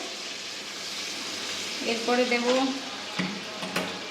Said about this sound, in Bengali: হালকা হালকা ভাজা হয়েছে এটাকে একটু নাড়িয়ে চাড়িয়ে নেবো